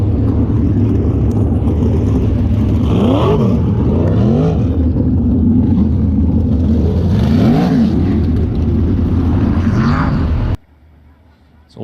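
Sprint race cars throttle up on a dirt racetrack as racing resumes, a loud continuous engine roar with rising and falling pitch sweeps as cars pass, ending abruptly in near silence.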